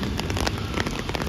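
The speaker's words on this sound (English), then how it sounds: "You guys probably can't see it that much, but it is raining." Rain falling on an outdoor concrete floor, a steady dense hiss of drops with faint scattered patters, fairly close and continuous throughout.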